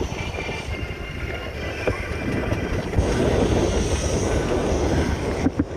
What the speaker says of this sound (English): The steam engine is in operation.